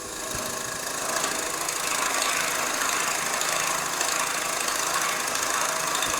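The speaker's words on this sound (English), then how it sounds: "Lathe speed down to 0, start the machine. I'm going to be cutting this at around about 900 to 1000 revs." A wood lathe turning a table lamp blank runs at about 900 to 1000 rpm, producing a steady, close mechanical whir and hum with a bright hiss and no pauses.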